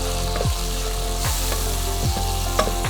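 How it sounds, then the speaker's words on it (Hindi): Chopped tomatoes sizzle in a pan with hot cumin, a steady loud frying hiss with a few stirring scrapes, close and without voices. "अब हम इसमें डालेंगे अपने कटे हुए टमाटर"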